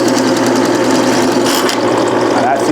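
Drain snake cable feeding into a main drain in a house under renovation, a steady loud mechanical whir and rattle running continuously throughout, with a voice speaking over it.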